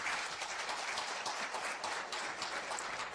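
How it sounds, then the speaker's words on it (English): An audience at an International Customs Day event gives a round of applause, dense, sustained clapping that holds steady throughout with no break. "Let's give them a hand clap once again."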